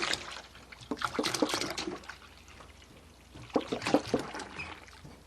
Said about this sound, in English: We just got to pour it all into the saucepan, all of it.